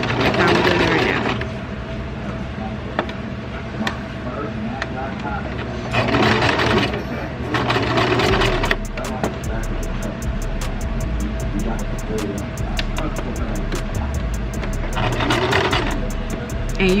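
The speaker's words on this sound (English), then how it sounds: "I'm just gonna back stitch this just to make sure those first few thingies bend stitch." A sewing machine back stitches a wig cap with a steady mechanical whir and rapid needle ticking, near and continuous, while a person talks over it throughout.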